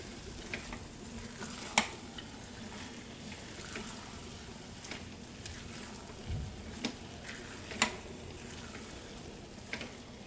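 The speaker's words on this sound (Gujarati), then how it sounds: "બરાબર મિક્સ કરી લેવાનું." Fada lapsi, a cracked-wheat sweet with cashews, almonds and cardamom, being stirred and mixed in a pan: a quiet, steady low sizzle with soft scraping strokes at irregular intervals and a few sharper taps of the spoon.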